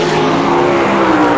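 360 sprint cars racing in a heat race at Ohsweken Speedway, engines howling loudly and continuously as the pack roars around the dirt track, no clear voices.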